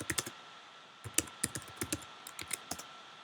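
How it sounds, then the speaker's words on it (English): Keystrokes on a computer keyboard while a chat message is typed in Microsoft Teams, a close, quiet run of irregular clicks in small bursts with short pauses, no voices. "I clicked on him and now I can type a message"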